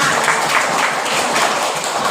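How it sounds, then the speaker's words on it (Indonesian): Classroom applause from students clapping together, a steady dense wash of hand claps that holds at an even level for about two seconds without a break. "Iya, tepuk tangan."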